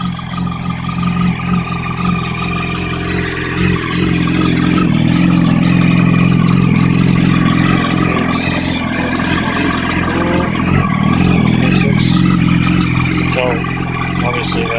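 A Yamaha R1 motorcycle engine running after a cold start, a loud, steady idle with slight fluctuations in revs that carries on throughout, with someone talking over it at times.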